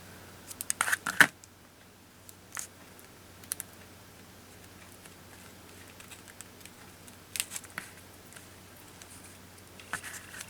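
Scissors cutting paper while crafting a butterfly: a quick cluster of snips early, then sparse single snips and soft paper rustles, close and quiet with no voices.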